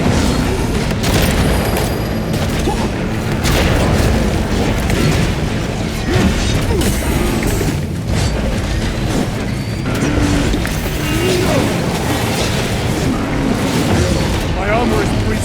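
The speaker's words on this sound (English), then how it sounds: "Tossing crack grenades!" Crack grenades detonate amid dense, continuous battle noise in the video game Space Marine 2, loud booms and bursts layered over constant gunfire and mechanical clatter.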